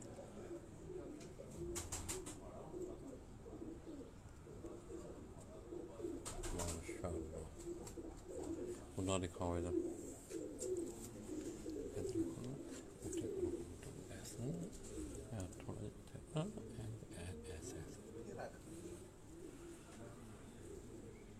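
Pigeons coo softly and repeatedly in a coop, with low throaty calls throughout and a clearer run of coos midway. Quiet voices talk over them.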